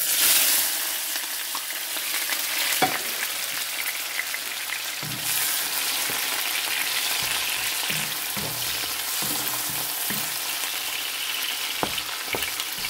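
Onion, red sweet peppers, garlic, ginger and tomato sizzle and fry in a wok in a small kitchen, a steady hiss broken by occasional stirring clatters and scrapes.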